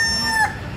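A rooster crows in a short, loud, close burst that stands alone, heard during an overnight shoot in Thailand's southern border provinces.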